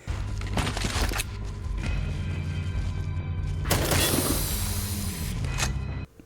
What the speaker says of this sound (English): the player will gain access to the shotgun, a bulky, powerful weapon attachment which hits seriously hard at close range